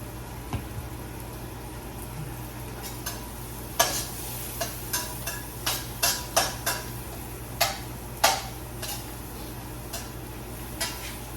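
Food is sautéed in a pan over a steady low hiss. A utensil clinks and scrapes against the pan in a string of sharp, irregular knocks, heard up close.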